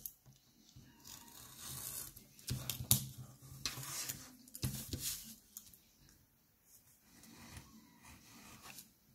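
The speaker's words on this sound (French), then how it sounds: "Mon cutter pour venir couper." Utility cutter knife slicing through material while reworking a vintage notepad, heard as scattered scraping, rubbing and sharp cutting strokes, a few louder bursts among quieter rustling, close and without talk.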